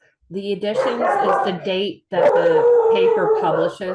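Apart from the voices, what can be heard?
dogs barking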